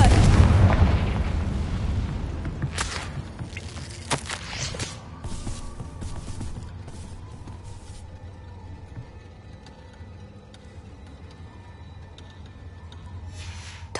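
A Confringo blasting curse explodes in Hogwarts Legacy with a loud booming burst at the start, then scattered crackling pops and debris fading into a quiet, low game ambience.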